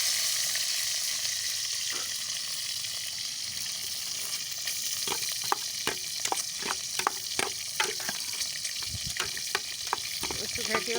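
Egg curry with cauliflower sizzling in a pan, a constant hiss of frying with a run of sharp stirring scrapes and clicks in the second half, close by and without speech.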